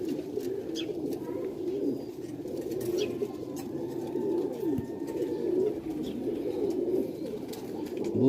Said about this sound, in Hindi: बहुत ही शानदार ने कबूतर